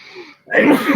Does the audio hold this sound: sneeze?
yes